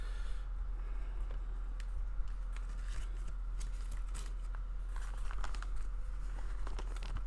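A resealable plastic baggie with hardware inside is handled close by, giving a run of crinkles and sharp crackles that come in irregular bursts and do not let up.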